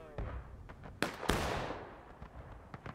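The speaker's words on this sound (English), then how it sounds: "we got some shooting over here. Some heavy shooting over here" Heavy musket volleys in War of Rights at Miller's Cornfield: a scattered shot, then two sharp loud cracks about a quarter second apart, trailing into a rolling rumble with more distant pops.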